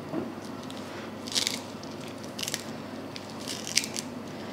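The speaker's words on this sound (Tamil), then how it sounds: "அடுத்து கருவேப்பிலையை சின்னதாக வெட்டி சேர்த்துக்கலாம்." Fresh curry leaves are sliced into small pieces with a knife in a home kitchen while making Ramzan iftar snacks, giving a few quiet, crisp cutting crunches spaced apart over a soft background.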